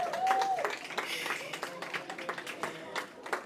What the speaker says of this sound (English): let's give the kids another round of applause